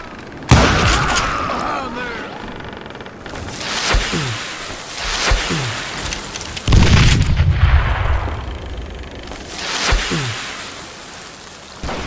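Gunfire from the Western shooter Call of Juarez: Gunslinger, with several sharp, booming shots spread across the scene, set among shouting voices and game music.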